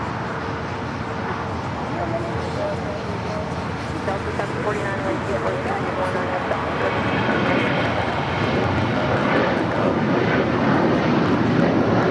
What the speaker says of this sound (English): Korean Air Flight 11 coming in from Seoul, the 747-8 Intercontinental, next arrival on the north side.